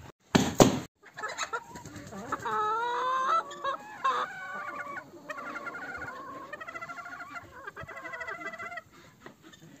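A sharp bang, then hens clucking and squawking nearby in snowy winter, a busy mix of overlapping calls that tapers off toward the end.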